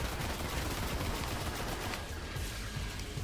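Rapid grenade fire and explosions in the video game Destiny, a dense continuous barrage of booming blasts and crackling shots with no pauses, loud and close.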